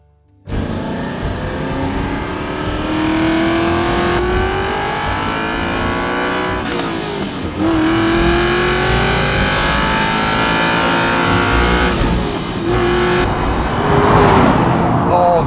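A loud Aston Martin Vantage V8 engine revs continuously, pitch sweeping up through the gears with brief drops between shifts, close and throaty with a deep rumble.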